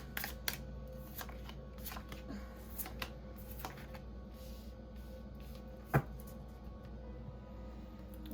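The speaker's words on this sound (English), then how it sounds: "I'm going to shuffle one more time and get 5 more cards." Soft, papery riffling and light slaps of tarot cards being shuffled, with a quiet room hum underneath and one sharper tap near the end.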